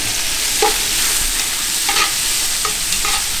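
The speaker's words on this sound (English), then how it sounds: "We'll just throw in the capsicum as well now. Yeah. And just fry it off a little bit." Capsicum frying in a pan, cooked on a camp outing at Wonnangatta Station, with a steady broadband sizzle and a few distinct scraping stirs of the utensil against the pan, close and fairly loud, no talking.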